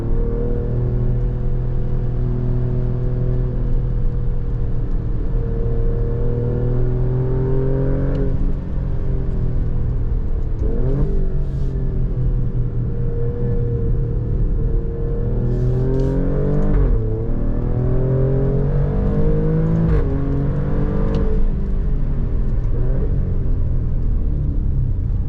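A 2024 Alfa Romeo Quadrifoglio on a race track, its engine revving hard through an 8-speed automatic: loud, close, rising engine notes drop sharply at each of several quick gear shifts.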